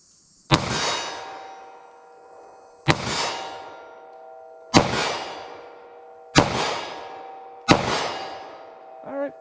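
Five loud Sig Sauer V-Crown handgun shots ring out one at a time at a steady interval of roughly two seconds, each sharp crack trailing into a ringing outdoor decay, with a faint metallic clink at the end.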